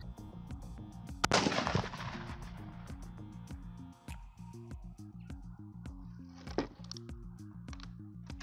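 A single deer rifle shot fired at a 25-yard target during scope zeroing, one loud sharp crack with a booming tail, followed by a fainter echo or second report, close by.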